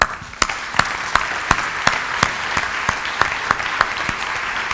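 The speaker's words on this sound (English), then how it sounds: "I think this is the last round of applause" Applause from an audience following a debate panel on ecology and sustainable development, with a few sharp, evenly spaced claps standing out loudly over a softer, steady background of clapping.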